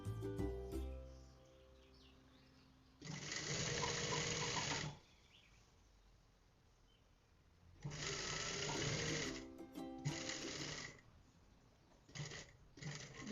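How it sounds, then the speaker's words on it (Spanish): A sewing machine stitches a seam on a basic skirt. It runs in several bursts of steady, close whirring, and each run is separated by a short pause. "Y hasta aquí vamos a coser rematando muy bien"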